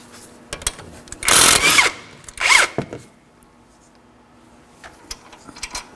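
A power tool works a 19mm brake caliper bracket bolt on a 2013-2019 Nissan Sentra, two short loud bursts of whirring rattle a second apart amid quieter clicks and metallic taps.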